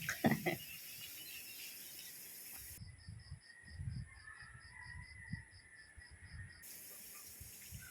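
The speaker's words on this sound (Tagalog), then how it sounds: "daming ibon" Several birds call and honk intermittently at a moderate distance over a quiet outdoor background, with a steady high tone running through the middle.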